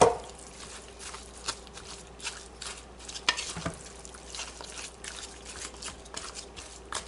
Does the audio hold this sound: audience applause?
no